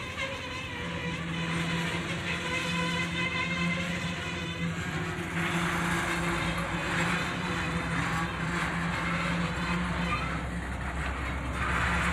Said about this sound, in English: the train makes all kinds of loud noises as it gets back moving again